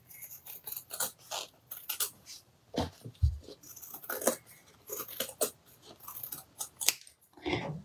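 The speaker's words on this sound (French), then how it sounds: "avec une paire de ciseaux de couture, je viens retailler doucement le haut de la pièce" Sewing scissors slowly trim the top edge of a fabric piece, giving close, crisp snips and soft crunchy cuts in irregular bursts, with no talk.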